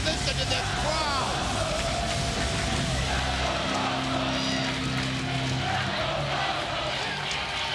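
A wrestling arena crowd at TNA's Bound for Glory roars and cheers in a dense, steady wall of noise throughout, with voices talking over it.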